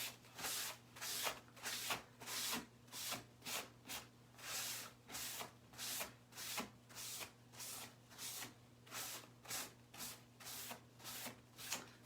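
Someone wipes down a piece of Christmas decor with a cloth in steady, rhythmic back-and-forth strokes, each a soft brushing swish, with a faint, even hum underneath.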